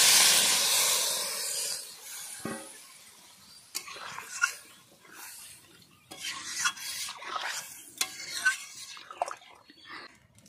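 Water is poured into a hot cooking pan with okra and spices, and a loud hissing burst of steam comes first, then fades to quieter bubbling and scattered scrapes and clinks of stirring.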